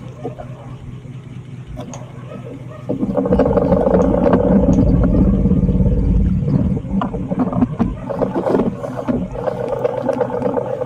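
A small outrigger fishing boat's motor starts up partway through and runs loud and steady, a rough low roar with some fluctuation, out on choppy water during squid fishing, with voices occasionally over it.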